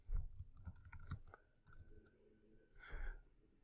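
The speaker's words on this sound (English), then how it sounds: "So I'm going to type in here real estate agent." Computer keyboard keys clicking in short irregular bursts while a search is typed, close and fairly quiet, with a brief pause before a final flurry of keystrokes.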